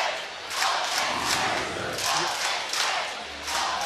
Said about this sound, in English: now we hear the loud Oregon fans cheering